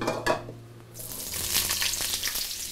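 Eggplant, onion, red and yellow peppers and carrot drop into heated oil, a quiet clatter at first, then a loud, bright sizzle bursting in after a second and crackling steadily with stirring knocks.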